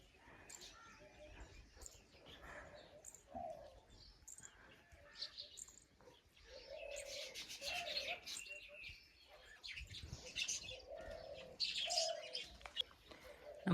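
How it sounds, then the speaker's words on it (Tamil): Two pigeons in front of a house coo in low, soft, repeated phrases, joined by scattered chirps from other birds, all fairly faint over a quiet outdoor background. "அந்த 2 புறா நம்ம வீட்டு முன்னாடி இருந்துச்சு."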